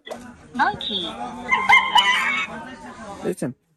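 A children's toy flash-card reader plays a recorded rooster crow through its small speaker, a bright, tinny electronic call lasting a few seconds up close, with speech-like voice tones from the device mixed in.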